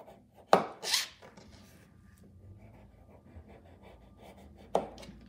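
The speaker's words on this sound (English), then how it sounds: "the skin has a lot of brown and murky bits, so you want to cut all of that off" Knife cutting the brown, murky skin off a beetroot: two distinct crisp slicing strokes at the start, a softer scrape, then quiet rustling and one more sharp cut near the end, close and fairly loud.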